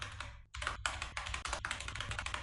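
Rapid typing on a computer keyboard, a steady run of close, crisp key clicks lasting the whole moment with only a brief pause near the start, no talking.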